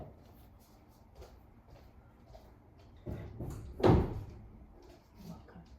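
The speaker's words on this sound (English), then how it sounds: "I opened the door" A house door is opened onto a porch to let a cat inside, giving a single soft clunk partway through. A quiet room surrounds the sound.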